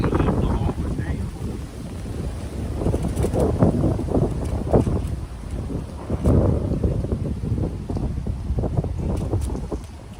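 Gusty wind blows across the microphone at an outdoor campsite, rising and falling in loud rumbling bursts for about ten seconds.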